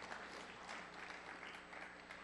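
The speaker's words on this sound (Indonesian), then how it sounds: "jangan tanggung-tanggung kalau tepuk tangan" Congregation clapping during a church service, a dense, faint, even patter of many hands with no voices.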